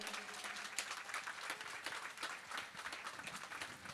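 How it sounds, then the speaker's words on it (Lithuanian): An outdoor festival audience applauds to welcome the mayor of Šilalė district, a steady wash of many hands clapping, distant and fairly faint, sustained throughout. "Širdingais aplodismentais sutikime ir šventės globėją, Šilalės rajono savivaldybės merą Joną Gudauską"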